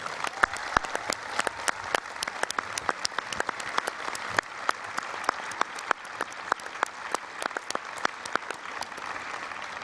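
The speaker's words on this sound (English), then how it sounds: "Please give them applause." An audience at a library conference closing session gives a steady round of applause, a dense rattle of individual claps that stays fairly even and moderately distant for about ten seconds.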